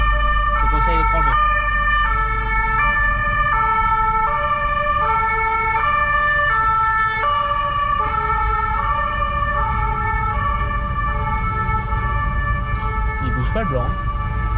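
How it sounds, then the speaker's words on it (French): Ambulance siren coming up from behind on a city road in Geneva, its two-tone wail alternating steadily and growing loud, heard from inside a van with traffic hum and brief talk. "T'as une ambulance derrière, si jamais. Elle vient vers toi."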